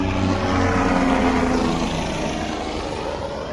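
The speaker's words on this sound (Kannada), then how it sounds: "5 ನಿಮಿಷಕ್ಕೊಂದು ಹೆಲಿಕಾಪ್ಟರ್ ಹಂಗೆ." A helicopter flies over the Kedarnath trek, its steady engine and rotor roar filling the mountain air at a loud, constant level that eases off slightly toward the end, with no talk.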